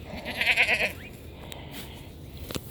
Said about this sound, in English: the goats are having a lovely time over here, eating up all of these lovely weeds